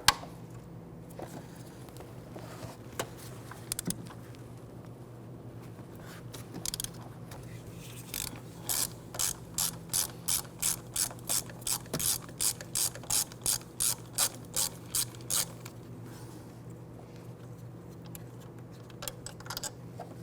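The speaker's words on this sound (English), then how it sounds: "On the back passenger side of the AC compressor, you're going to find a 13mm bolt here. Loosen and remove that." A ratchet clicks in a quick, steady rhythm while loosening a 13mm bolt on the AC compressor of a 1999-2004 Jeep Grand Cherokee 4.7L V8, close and clear over a low hum.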